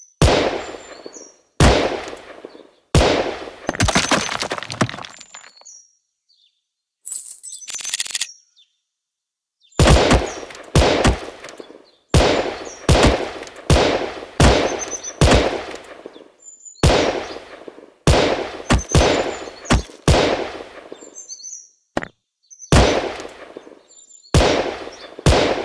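Rapid gunshots from the mobile shooter Gun Sprint fire in short, sharp bursts separated by brief silences, loud and close, with a steady rhythm of repeated shots throughout.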